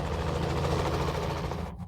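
A helicopter lands nearby with a loud, continuous rotor and engine roar and a rapid pulsing beat, which drops away sharply at the very end.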